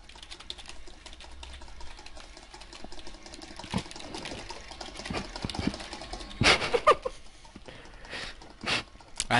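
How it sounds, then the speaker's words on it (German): Rapid clicking of a computer mouse and keyboard keys during a Minecraft session, a dense run of light, close taps with a few louder bursts near the end. "ich höre dein Maus klicken."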